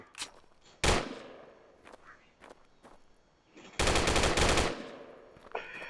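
Machine-gun fire in the video game Harekat 2: a short loud burst, then a longer rapid burst of automatic shots a few seconds later, with quieter game noises between.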